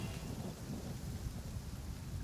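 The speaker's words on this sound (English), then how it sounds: "it's just a little lightning. No need to fear it on the open ocean" Thunder rumbling through steady rain in a storm on the open ocean in Genshin Impact, a continuous deep roll with heavy low-end rain noise throughout, with no voices.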